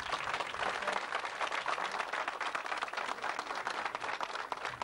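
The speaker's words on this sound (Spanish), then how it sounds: "Fuerte aplauso entonces." Dense, steady applause from a crowd at a school's 50th anniversary mass, fairly distant and continuous throughout.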